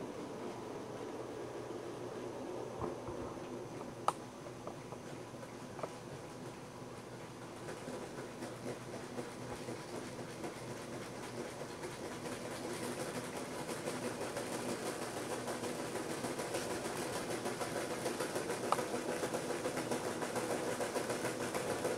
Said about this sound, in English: there you saw the winch mechanism arriving by rail